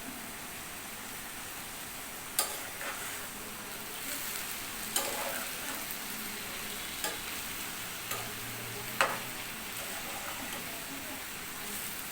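Shrimp frying in oil in a pan with green chilies added, giving a steady faint sizzle with a few sharp stir clicks from a utensil spaced through the clip.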